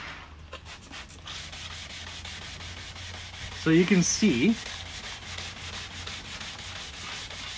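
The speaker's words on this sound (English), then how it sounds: "I'm gonna start sanding this up here" Steady, gritty sanding rubs back and forth across a plastic headlight, with a brief voice speaking partway through.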